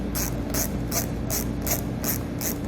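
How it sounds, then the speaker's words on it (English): A 7mm socket ratchet clicks in steady, evenly spaced bursts while loosening fascia fasteners on a 2018 Chevrolet Equinox, close and clear with no voices. "we'll grab our 7mm socket and pull all 8 of those out"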